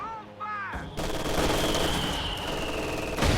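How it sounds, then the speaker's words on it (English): Machine gun and mortar fire from the World War II strategy game Company of Heroes 2, in a US and Soviet versus Wehrmacht match, forms a dense, loud, continuous roar of overlapping bursts. "Dealing with a lot of mortars and machine guns."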